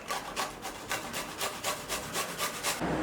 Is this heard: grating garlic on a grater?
yes